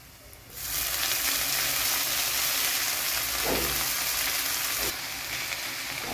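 Dill greens hit a pan of sautéing moong dal with garlic and chilli, a loud steady sizzle swelling up after a quieter start, with a brief stirring scrape midway and a slight drop near the end.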